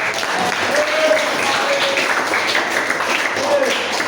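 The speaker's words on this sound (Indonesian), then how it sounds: "Tepuk tangan untuk kita." A classroom of students claps together, a steady, fairly loud burst of applause lasting about four seconds with voices mixed in.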